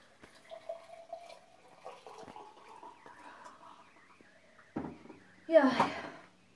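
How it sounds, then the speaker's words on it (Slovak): A person drinks water, with faint sips and swallows after quiet murmuring, then a louder voiced sound at the end. "takže sa napijem"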